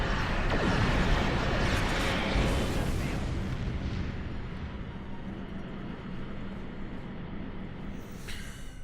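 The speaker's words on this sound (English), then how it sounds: "let's get another set of phasers on this target" Phaser fire in the space combat game Star Trek Online, a loud, continuous roaring barrage of energy weapons and blasts that fills the opening seconds and then eases into a steady rumbling wash.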